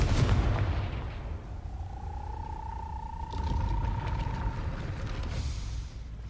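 The Confringo blasting spell going off in the video game Hogwarts Legacy: a loud booming burst up front, then a sustained tonal whine and a rumbling second surge, with no talking.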